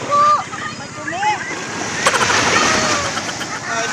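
Ocean surf rushes and washes over a beach in Oriental Mindoro, Philippines, with wind noise, while people talk and call out intermittently over it.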